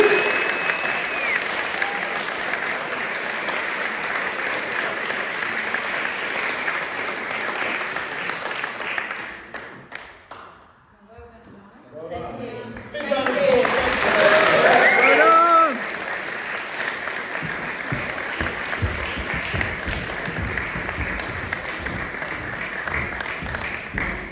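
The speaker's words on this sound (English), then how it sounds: "He deserves a round of applause too." Audience at a documentary screening breaks into sustained applause, a broad wash of many hands that dips briefly midway, swells with some voices and whistles, then carries on steadily to the end.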